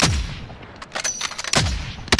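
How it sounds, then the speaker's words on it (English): A video game firefight with repeated loud gunshots and short automatic bursts, close and punchy, spread unevenly across a couple of seconds with no talk. "now somebody's firing at me."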